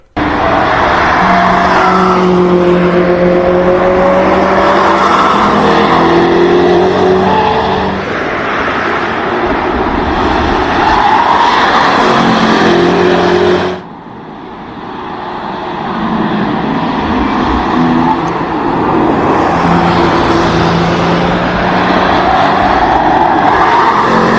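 A Lexus LFR race car engine screams at high revs on the Nürburgring Nordschleife, pitch climbing and dropping through gear shifts, loud and continuous with a brief lull partway through.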